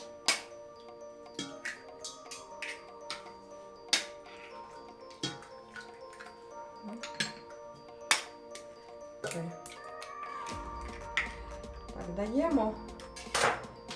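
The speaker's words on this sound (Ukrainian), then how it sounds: "розбиваємо три яйця" A few sharp clicks and taps of three eggshells against a bowl, followed by wet cracking and a low rumble, with soft kitchen clatter throughout.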